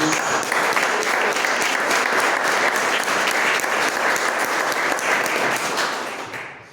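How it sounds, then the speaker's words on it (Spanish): A church congregation breaks into sustained applause for Jesus, dense, even clapping from many hands at full strength that holds steady for several seconds before tapering off at the end. "Denle un aplauso a Jesús."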